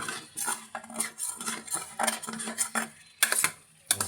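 Metal utensil clinks and scrapes against a pot while chicken adobo is stirred after the vinegar has come to a boil, giving an irregular series of close, sharp clatters with louder knocks near the end.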